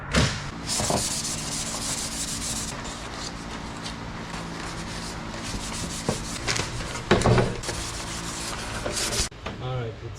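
Car body parts are scuffed by hand before painting, giving repeated rubbing and sanding strokes close by, with occasional knocks and handling clatter between passes.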